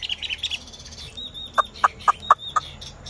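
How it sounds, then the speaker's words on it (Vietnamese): A caged Chinese hwamei songbird of the bánh tẻ type gives a run of high chirps, then five sharp, evenly spaced calls close by, with no voices. "À chim bánh tẻ các bác nhá, em này chim bánh tẻ nhá."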